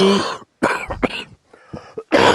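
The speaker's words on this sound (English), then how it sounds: "could you try not to cough?" Several loud, harsh coughs in quick bursts, close to the listener, with brief silent gaps between them.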